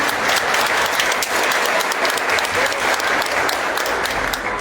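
A loud, dense round of crowd applause at a family history contest in Mezcala de los Romero, sustained and even throughout with no break.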